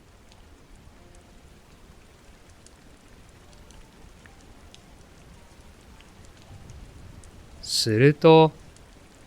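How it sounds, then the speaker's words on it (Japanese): Gentle rain falls softly and steadily as a faint, even patter, with a brief spoken word near the end. "優しい雨が静かに降り始めました。"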